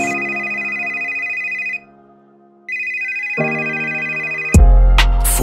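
An electronic ringtone sounds in sustained tones, pausing briefly then resuming at a lower pitch before a heavy beat crashes in.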